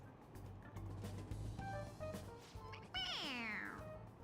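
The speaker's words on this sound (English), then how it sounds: "It meows when you press on its head." A stuffed toy cat in a video game gives a rising, stretched meow when its head is pressed, loud and close near the end, over earlier faint tonal game sounds and background hum.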